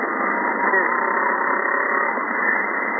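Steady, loud buzzing electrical interference noise through an HF radio receiver on the 80 m band, band-limited and unchanging, filling the channel without pause.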